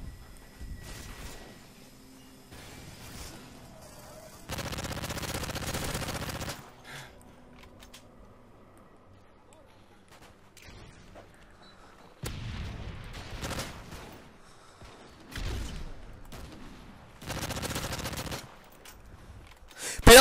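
Team deathmatch gunfire in Modern Warfare 3, heard as several loud sustained bursts of automatic fire separated by quieter gaps and scattered shots, with occasional voices between bursts.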